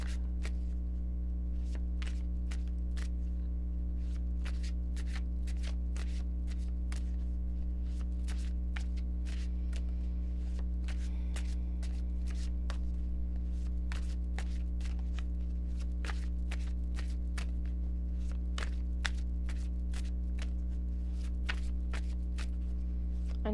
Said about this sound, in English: I know that this shuffling is going to take a while.